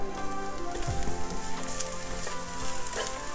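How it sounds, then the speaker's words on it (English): Garlic sizzles in a hot pan while pepper steak is being cooked, a close, steady crackling hiss with small popping spurts and no talking. "Don't you love that sizzling sound?"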